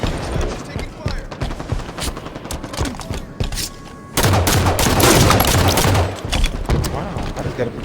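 Rapid gunfire and explosions in a frantic multiplayer shooter match with rocket launchers in play, dense bursts throughout that swell louder and more continuous midway, heavy booms underneath and a voice talking over the barrage.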